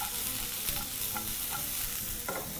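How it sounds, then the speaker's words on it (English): Onions sizzle and fry in a pan as they are tossed and stirred, a loud, dense, continuous crackle with repeated scraping stir strokes and no voices. "we're going to proceed to add onions to our pan. Proceed to toss that quickly and allow for them to sweat really briefly"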